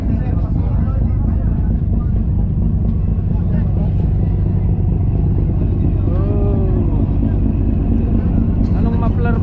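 A motorcycle fitted with a Pating pipe aftermarket muffler idles and rumbles loudly and continuously nearby at an island event, with a brief rising rev, while people talk over it.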